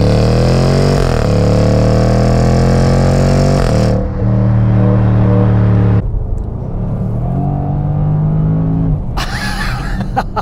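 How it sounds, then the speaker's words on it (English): A Jaguar F-Pace SVR V8 with its loud exhaust in dynamic mode accelerates hard through several gears, a loud, near, rising engine roar with distinct gear changes and brief lifts between pulls. "We've got the loud exhaust on,"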